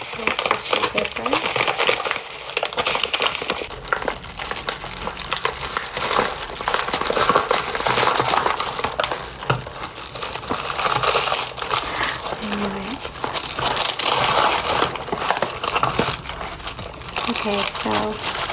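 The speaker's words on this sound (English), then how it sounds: "Tissue paper." Tissue paper crinkling and rustling while a package is unwrapped, continuous close crackling handled at length, with a faint voice now and then.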